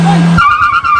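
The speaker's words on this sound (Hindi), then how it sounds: "साफ तगड़ा व्हील स्पिन भाई" Car wheel spin with a sharp tire squeal at a drag race start between a Maruti Brezza and a Swift, a brief low engine note breaking into a loud, close, high screech that holds steady to the end.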